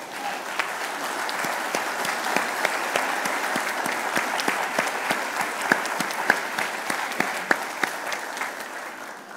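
A church congregation at a Christmas Eve candlelight worship service claps loudly and steadily after a Christmas pageant, with dense, sustained applause filling the sanctuary throughout.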